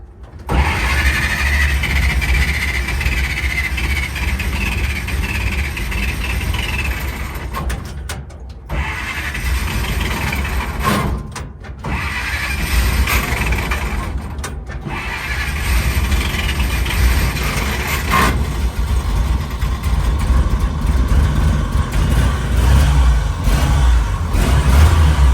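A 1940 Dodge VFA32 truck engine cranks and fires, then runs on in a loud, steady idle with rough low rumble and a few brief dropouts, no voices over it.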